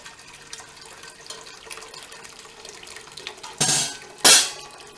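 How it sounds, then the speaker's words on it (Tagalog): Hot water is poured for mango jelly in two short, loud splashing gushes near the end, following a few seconds of quiet kitchen background. "At lalagay natin ng hot water."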